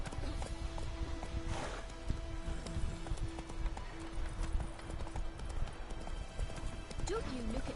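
Rhythmic hoof clip-clops of a trotting horse in The Witcher 3: Wild Hunt, fairly close, with steady game music and ambient effects underneath throughout.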